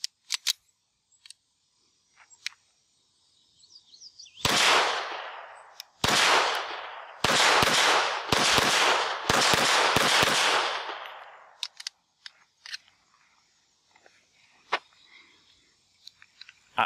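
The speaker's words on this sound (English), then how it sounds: "So let's shoot this one other mag through it" A Beretta 80X Cheetah .380 pistol fires about seven loud, close shots in an uneven series as a magazine is emptied, with quiet handling clicks before and after and no talk.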